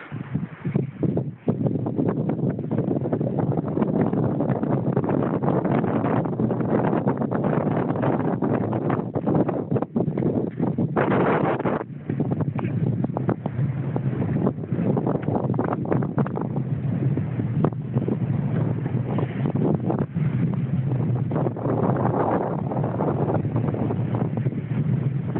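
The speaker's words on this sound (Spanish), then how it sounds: "Aquí el viento sopla riquísimo." Wind buffets the microphone on a pier at San Blas, a steady loud roar of gusts lasting throughout with rustling and low rumble, no talking.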